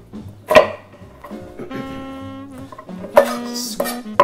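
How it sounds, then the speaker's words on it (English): A knife coarsely chops an onion on a cutting board, giving a few sharp, close chops spaced irregularly, with a quiet hum in the background. "Put a coarse chop on an onion."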